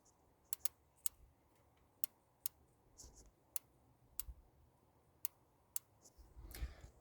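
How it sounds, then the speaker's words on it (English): Fuel injector on a Dodge Ram 2500 fuel rail clicking as it is manually activated, about a dozen sharp isolated ticks at an irregular pace, faint and close with a brief rustle at the end. "put the camera over there by the injector and then touch it, and you should hear it click."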